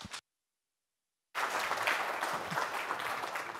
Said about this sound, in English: So give a round of applause to David.